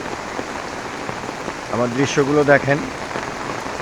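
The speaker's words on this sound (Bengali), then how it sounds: "বৃষ্টিটা খুবই চমৎকার একটা বৃষ্টি হচ্ছে" Heavy early-morning rain falls steadily as a constant hiss across a street, with someone speaking briefly over it midway.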